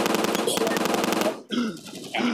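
Rapid automatic gunfire in the Android FPS shooter Modern Flag Forces, a dense burst lasting over a second, then a short gap and another shorter burst, loud and close.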